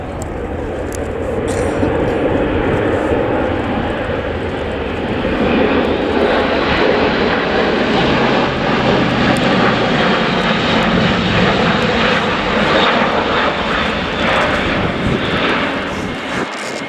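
An Airbus A400M military transport roars through its airshow display, its turboprop engines producing a loud, sustained broadband drone that swells and holds steady across the whole stretch.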